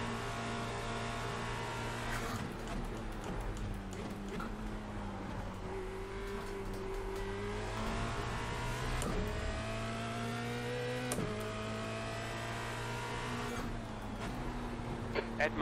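A Formula Renault 2.0 race car in the iRacing simulator drones steadily at high revs, its engine pitch dipping and climbing through gear changes, loud and continuous throughout.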